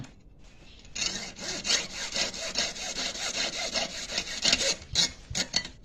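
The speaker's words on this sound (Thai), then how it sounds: "นี่ เลื่อยเลยครับ เลื่อยเลยนะครับ" A hand saw rasps back and forth in quick, steady strokes through a metal ring band, close up and fairly loud, after a brief quiet start.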